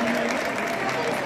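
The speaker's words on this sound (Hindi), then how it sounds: "जोरदार तालियां बजाएंगे सभी लोग" An audience at a virtual ITI convocation ceremony in Madhya Pradesh claps, a moderately loud, steady patter of many hands from a crowd, with a faint voice or tone underneath.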